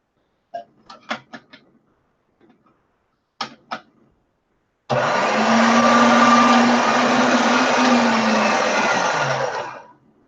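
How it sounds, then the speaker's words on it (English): Pasta machine rolling polymer clay flat on its thickest setting: a few sharp clicks and knocks, then a loud continuous mechanical whir for about five seconds before stopping. "I'm going to really flatten this out on the thickest setting on the pasta machine"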